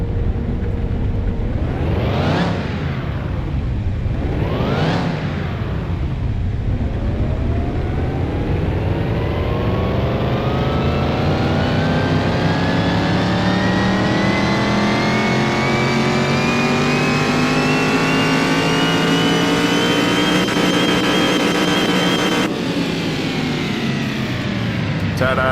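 A car engine on a dyno in Car Mechanic Simulator 2021 revs twice in quick sharp blips, then climbs in one long loud pull to high revs before cutting off near the end.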